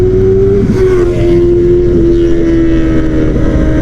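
Royal Enfield Interceptor 650 motorcycle fitted with a new touring seat riding off, its engine droning loud and steady up close with a constant whine and rough exhaust rumble throughout.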